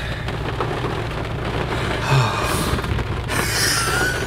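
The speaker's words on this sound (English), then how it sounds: "it just starts pouring rain" Heavy rain pours down steadily outdoors in a downpour that leaves everyone drenched on a Sunshine Coast outing, a dense continuous hiss with no talking.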